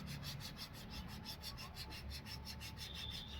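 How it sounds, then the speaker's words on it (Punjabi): A tyre inner tube is scrubbed hard around a puncture to roughen it before a patch goes on, a steady close-up scraping rasp in quick repeated strokes with no one speaking. "ਇਹ ਦੇਖੋ ਪੂਰੀ ਤਰ੍ਹਾਂ ਆਪਾਂ ਇਸ ਨੂੰ ਰਗੜ ਲਾਂਗੇ"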